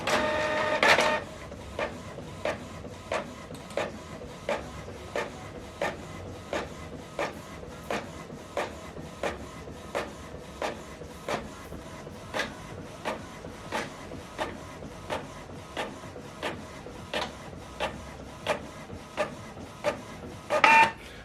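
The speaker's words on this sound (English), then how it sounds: "You can see the document is printing out." A printer runs a double-sided print job from a laptop, giving a steady series of about thirty evenly spaced mechanical clicks and whirs in a quiet room, with louder feed sounds at the start and end.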